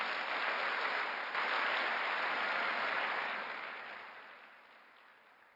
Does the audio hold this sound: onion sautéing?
no